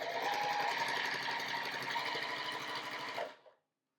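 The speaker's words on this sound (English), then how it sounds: "place them right sides together and sew a 1/4-inch seam" Sewing machine stitches a quarter-inch seam through quilt fabric, a fast, even mechanical chatter heard close up for about three seconds before it stops.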